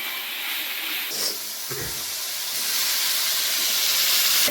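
Green jackfruit curry fries and bubbles in a pan, giving a steady close hiss and sizzle that grows slightly louder toward the end, with a couple of brief low knocks near the start.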